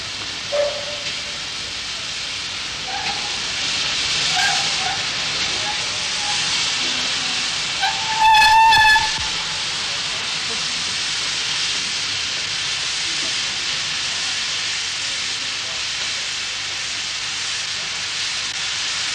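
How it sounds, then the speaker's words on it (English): London Transport steam locomotive L94 gives off a continuous loud hiss of steam, with a short sharp whistle blast near the middle and faint metallic clanks, heard outdoors among a gathered crowd. "L94 slowly creeps forward to greet its fans and stops for the many hundreds of cameras and recorders."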